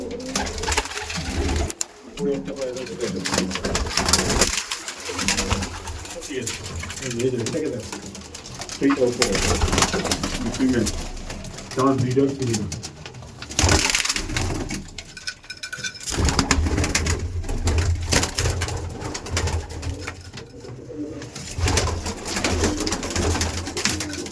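Andhra pigeons coo steadily in a loft, with people talking over them through most of the stretch.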